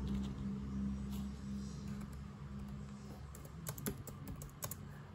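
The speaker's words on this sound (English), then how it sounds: "I'm gonna type in Falcon or Soldier." Quick light typing on a computer keyboard, a brief cluster of soft keystrokes near the end, partly masked by a steady humming background noise.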